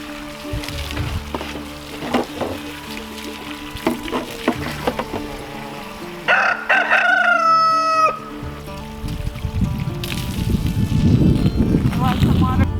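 A hen clucks and calls among other farmyard noises, including a drawn-out crowing call midway, with a voice speaking at times.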